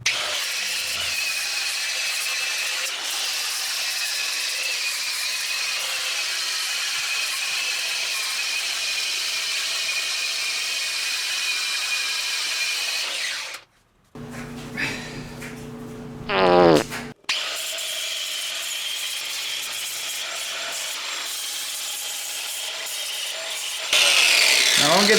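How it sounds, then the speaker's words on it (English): A multi-tool fitted with a flapper disc cleans up an engine surface during a Subaru Forester engine install, a steady abrasive grinding whine running most of the clip, cutting out briefly midway before resuming. "Let me get the flapper disc there. Okay, I just want to clean up this surface here. We'll get our multi-tool."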